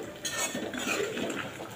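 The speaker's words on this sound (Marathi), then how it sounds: "मिक्स करून घेऊया भाजीमध्ये" A spoon stirs coriander into cooked elephant foot yam vegetable in a pan, making soft scraping and light clinks over a faint background sizzle.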